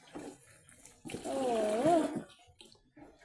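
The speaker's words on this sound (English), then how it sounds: "all the water that I fetched is pouring" Water gushing and splashing out of a cut, leaking container just after fetching, a loud steady pour of about a second swelling mid-clip, with brief exclamations around it.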